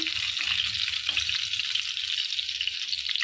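Chicken rolls deep-fry in hot oil, a loud, steady hiss and crackle of sizzling close by, continuous with faint low clatter underneath.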